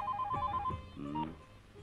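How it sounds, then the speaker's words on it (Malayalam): A telephone rings nearby with a rapid, repeated electronic trill in short bursts, clear and alone, followed by a fainter tone. "ഊരിലെ ഫോൺ വന്നിരിക്കു"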